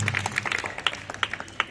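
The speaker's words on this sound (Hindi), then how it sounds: "बहुत अच्छे, जोरदार ताली हो जाए।" Brief applause at an earthquake safety event, a short patter of scattered hand claps from a small group, moderately loud and uneven.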